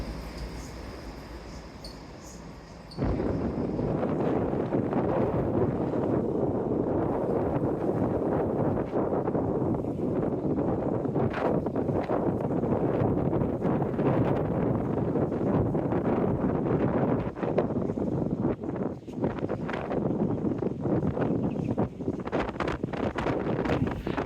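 Strong winter wind buffets the microphone under Teignmouth pier by the beach, a loud continuous rumbling roar that starts suddenly after a quieter opening and persists throughout.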